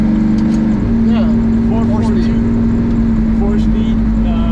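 An Oldsmobile 442 with a four-speed manual, four-barrel carburetor and dual exhaust drives along, its engine drone loud and steady throughout, with people talking faintly inside the cabin.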